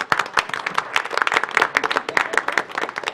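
An audience at a city commission meeting gives a round of applause for the City Academy class of 2026, steady dense clapping from many hands for about three seconds with no talking.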